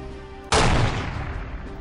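A single loud, sharp gunshot cracks out in No One Lives Forever, its blast decaying into a lingering rumble over the following second.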